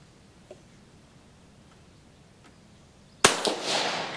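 An Italian Vetterli 1870/87/15 rifle fires a single sharp, loud shot after a few seconds of quiet outdoor background, followed by a brief rolling echo.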